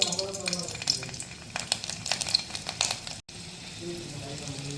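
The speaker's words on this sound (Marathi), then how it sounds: "तेल टाकले आपण त्याच्यामध्ये लसणी दोन तीन फोडणीला टाकायचे" Two or three garlic cloves hit hot oil for tempering and fizz with a steady, crackling sizzle close by, briefly cutting out once, while some talking carries over it.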